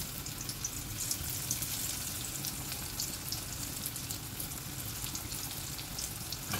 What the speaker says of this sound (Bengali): এখন কিন্তু গ্যাসের ফ্লেম হাইতে করে এগুলোকে গোল্ডেন ব্রাউন করে ভেজে নেব